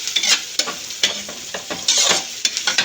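Onions being sautéed with plenty of ginger and garlic in a hot pan, loud close sizzling broken by repeated scraping stirs in an uneven rhythm, with no voices.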